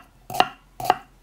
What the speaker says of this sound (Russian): нарезаю лук.